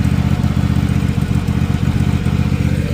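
A Husqvarna lawn mower engine runs low on fuel but smoothly, a steady close-up drone with a fast, even firing rhythm that continues throughout without talk.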